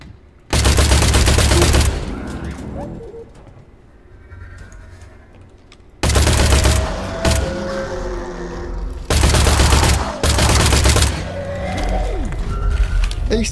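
Loud bursts of gunfire in the Industria video game, several dense volleys of rapid shots with quieter gaps between them and no talk over the fire.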